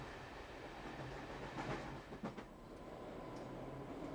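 A passenger train in town rumbling past at a distance, a steady low roar with a few faint clicks of wheels over rail joints and a brief swell midway.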